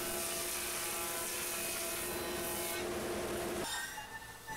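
A wood jointer runs with a continuous whirring hum as a hardwood board edge passes over it, the steady machine drone dropping in pitch near the end as the cut finishes.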